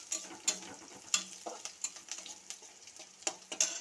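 Cauliflower sizzles and fries in a pan while being stirred, with frequent close scraping and clacking stirs over a steady crackling hiss.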